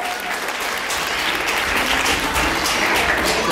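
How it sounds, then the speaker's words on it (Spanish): Dense, continuous applause fills a quinceañera party, loud and sustained from a crowd of guests clapping together without pause. "Un aplauso por favor"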